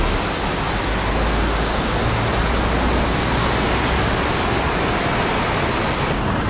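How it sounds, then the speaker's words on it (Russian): Sea waves washing onto Diamond beach in Alanya, Turkey, on a winter day, a steady broadband surf wash that stays loud and even throughout with no voices. "Пляж Даймонд."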